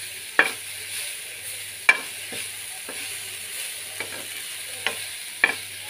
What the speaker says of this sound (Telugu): ఆయిల్లోనే ఇది కూడా మెత్తగా మగ్గిపోతే బాగుంటుంది